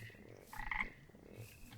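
A Harlequin toad in a modded Minecraft game gives a single short croak, clear and close, with quiet ambience before and after it.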